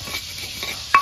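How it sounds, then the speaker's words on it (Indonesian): Milkfish (bandeng) fries in oil with a steady soft sizzle and faint stirring, ending in a sharp utensil clink. "Kene iki tak goreng bandeng."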